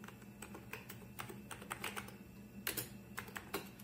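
Keys clack on a 1990 Sharp PC-5741 DOS laptop keyboard, a close, quiet run of irregular taps with small bursts and pauses, as a login name is typed, no talk.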